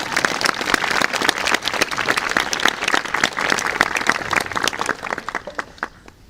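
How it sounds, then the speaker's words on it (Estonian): An audience at an outdoor summer theatre performance claps with distinct individual hand claps forming a lively, loud ovation that thins slightly toward the end. "Aplaus!"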